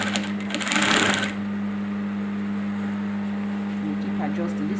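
A sewing machine stitches gathered fabric for a batwing crop top, a steady close motor hum running throughout, with a louder burst of whirring near the start.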